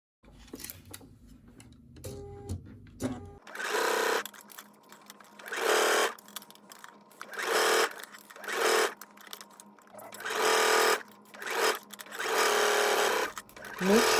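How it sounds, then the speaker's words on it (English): A sewing machine stitches bias tape onto dress fabric in a series of loud, close bursts of rapid whirring, separated by short pauses, after a few quiet handling clicks at the start. "Stitch carefully around the curve."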